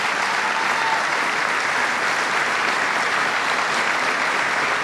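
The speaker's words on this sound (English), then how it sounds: "Give Kathy a big round of applause." A large audience at a military base event claps in sustained, dense applause that stays loud and steady throughout, with no voices standing out over it.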